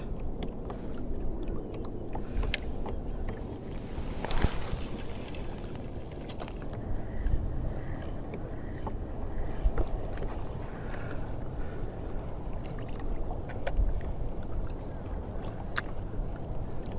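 A motorboat cruising along a shoreline gives a steady, continuous engine drone with wind buffeting the microphone, a brief brighter splash or gust midway, and no talk.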